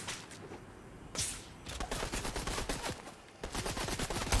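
Rapid bursts of gunfire crackle in quick succession in the video game Fortnite, dense automatic shots with a short pause, loud and close.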